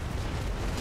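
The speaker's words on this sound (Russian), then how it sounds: "А вон мортирный корабль стоит, плюется." A mortar ship fires in the naval game World of Sea Battle, producing a deep, rumbling boom that fills the short moment at moderate loudness.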